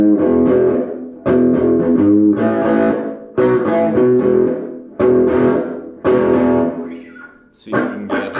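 Peavey Rage 158 guitar amp played with an old-school crunchy distortion, loud chords struck in repeated bursts about a second apart, each ringing out before the next, with a thinner note near the end.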